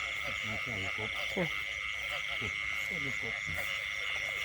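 Frogs croak in repeated rhythmic bursts on a rainy night in the countryside, close and clear over a constant high insect drone, with faint talk now and then.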